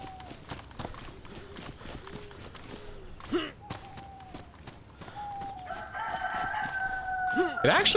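Rooster crowing in the DayZ video game, a loud drawn-out cock-a-doodle-doo near the end over outdoor ambience, with brief voices and footstep thumps earlier.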